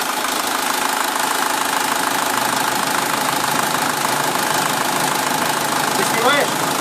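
A SsangYong Kyron diesel engine idles after an oil change, giving off a steady, even mechanical hum with a faint knocking texture that holds at constant loudness throughout.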